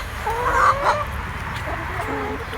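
Backyard hens cluck and murmur softly nearby while pecking at soil and seedlings on a walkway, with a few brief higher calls amid low outdoor rumble.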